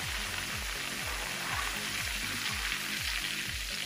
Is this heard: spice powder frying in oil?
yes